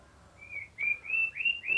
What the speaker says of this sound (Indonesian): karena di belakang saya ada burung, jadi dia cepat respon dan mungkin suaranya semoga tidak masuk di mikrofon